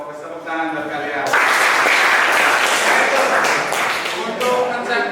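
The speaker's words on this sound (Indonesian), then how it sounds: "Tepuk tangan buat kalian." Classroom of vocational high school students clapping together in unison, a dense loud burst of hand claps that swells after a second and holds steady, with some voices mixed in.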